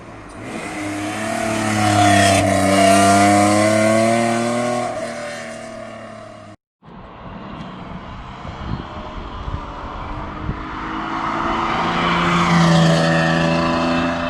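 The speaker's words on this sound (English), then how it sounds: "So I'm just now gonna show you some drive-bys." A BMW E28 with a swapped M50 engine drives by twice, the straight-six rising in a loud revving pass with clear harmonic engine tones, then a second pass with rougher rumble, building and fading.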